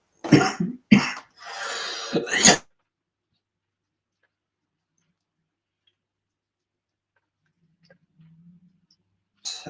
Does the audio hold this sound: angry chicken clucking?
no